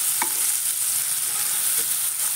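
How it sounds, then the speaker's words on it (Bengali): Chopped onions with green chilli frying in a pan, a continuous bright hiss of sizzling oil held at an even level, with one or two faint spatula taps, close by. "পেঁয়াজটা একটু কষিয়ে নেব"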